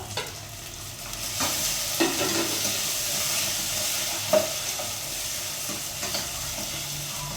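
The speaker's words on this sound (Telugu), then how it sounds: "ఇవి కూడా బాగా ఫ్రై అవ్వాలి, ఘాటు వస్తుంది" Coriander, tomato and green chillies frying in a pan over already-fried ginger, garlic and onions, a close, steady sizzle with repeated scraping stirs and occasional light clanks.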